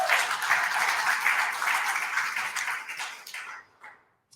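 A church congregation at a Center for Spiritual Living service applauds the musicians, a steady round of clapping that thins out and stops near the end, with no talk over it.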